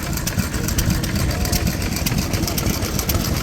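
A vintage 3 horsepower Donaldson Tippett stationary engine drives a big pump at a historic machine restoration rally, thumping with a steady, loud, close rhythm and no pause throughout.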